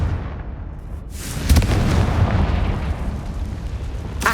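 A Confringo fire spell blast in the Hogwarts Legacy video game: a sharp, loud fiery explosion with a booming burst followed by a rumbling, crackling tail, preceded by a quieter whooshing buildup.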